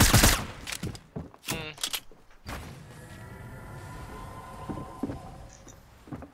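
Gunfire in the zombie shooter video game World War Z: a few sharp shots and quick bursts at the start, then a quieter stretch of in-game ambience with faint thuds and rattles.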